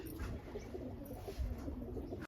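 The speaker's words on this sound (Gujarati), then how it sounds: "તો જો મિત્ર મુખી કબૂતર પણ આવી ગયું છે ખેતરમાંથી આવ્યું છ" Soft, low cooing from a loft pigeon repeats in a gentle rhythm, fairly faint against a quiet outdoor background.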